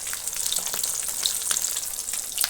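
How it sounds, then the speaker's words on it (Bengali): Fish frying in hot oil during morning cooking, a steady close crackling sizzle with small pops throughout, no voices. "মাছ ভাজা করছি"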